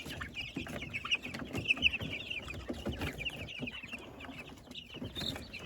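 Young chicks in a chicken coop cheep and cluck in soft, rapid high-pitched peeps, close by and continuous with small rustling in between.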